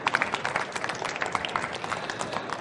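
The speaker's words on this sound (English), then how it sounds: "a round of applause, please" An audience at a conference case study presentation gives a brief round of applause, moderate and steady clapping with scattered individual claps standing out.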